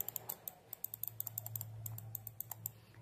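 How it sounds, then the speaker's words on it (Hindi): A budget wired Quantron computer mouse has its buttons clicked repeatedly, giving sharp, light clicks in uneven quick runs, close and fairly quiet with no talking. "एकदम मस्त क्लिक करने पे आपको साउंड सुनाई देता है"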